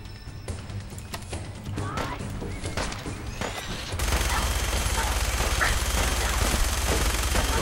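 Minigun fire in Fallout 4 rattles in a dense, continuous roar that swells louder halfway through, with a voice speaking briefly under the gunfire.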